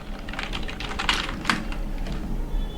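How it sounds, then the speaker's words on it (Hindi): Close computer keyboard typing as an applicant's name is entered into an online government job registration form: quick irregular clicks with a few sharper key strikes, and no voices. "तो यहाँ पे मैं नेम ऑफ एप्लीकेशन टाइप कर देता हूँ"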